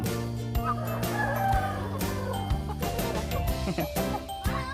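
A flock of chickens clucks while coming out to eat scattered feed, with overlapping close calls and a rooster-like crow rising above the steady chatter.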